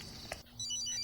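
A telephone rings in short electronic tones, faint and brief, over a low background hum with no talking.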